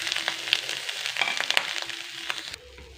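Grated coconut fries in a pan for a snack, giving a close, moderate sizzle broken by a few sharp clicks and scrapes of stirring before it cuts off near the end.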